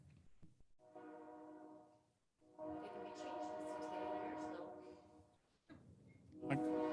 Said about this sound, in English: Annoying train.